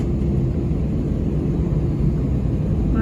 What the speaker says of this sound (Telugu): మా ఫ్లైట్ కదులుతుంది ఇక.